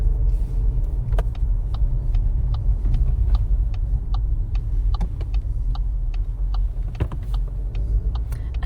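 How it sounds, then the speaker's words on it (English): A car on a mock driving test hums with a steady low engine and road rumble from inside the cabin, with faint regular ticking clicks, likely an indicator, over it and no talk. "And then just continue driving normally."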